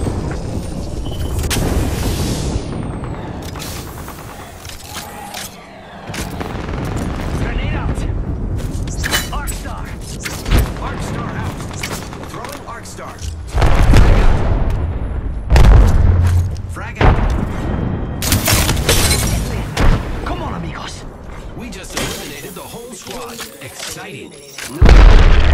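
Gunfire in an Apex Legends squad fight: repeated loud bursts of shots and heavy booms, some sharp and close, scattered irregularly over a steady rumbling background with voices speaking in between.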